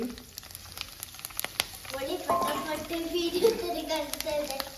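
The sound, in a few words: chillies frying in pan for chilli pickle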